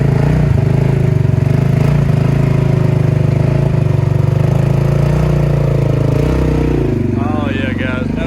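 A Polaris Sportsman 570 ATV churns through cow-trampled mud, its engine droning loud and close with uneven throttle swells, while a rider talks over it.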